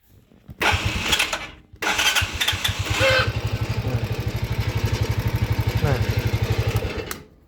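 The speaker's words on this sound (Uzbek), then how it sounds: "Po'shin bosdik, keyin zavodit etdik. Zavodit bo'lib turibdi, zo'r." A motorcycle engine cranks, stalls briefly, then catches and settles into a loud, steady, pulsing idle close by.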